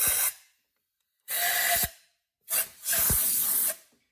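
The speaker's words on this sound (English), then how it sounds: "Now blow out your spark plug holes." Three sharp hissing bursts of compressed air blowing out the spark plug holes of a 2014 Volkswagen Tiguan engine, the last one long, with short silent gaps between them.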